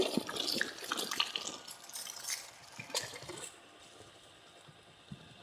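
Freshly harvested water apple fruits rinsed under warm running water: splashy, uneven gushing and trickling close by, easing off to a faint drip-like trickle partway through.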